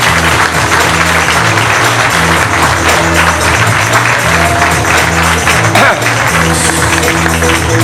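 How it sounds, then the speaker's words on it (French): Audience at a municipal election public meeting in Le Beausset clapping steadily, loud and continuous, over music or background sound throughout. "je vous invite à applaudir monsieur Claude Alibi"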